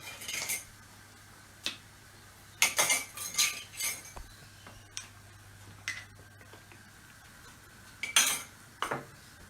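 A spoon stirs green pesto into mayonnaise in a bowl, making scattered clinks and scrapes against the dish in irregular bursts, fairly faint, with quiet pauses between strokes and no talking.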